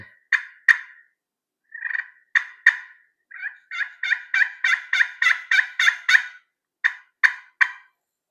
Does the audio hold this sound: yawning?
no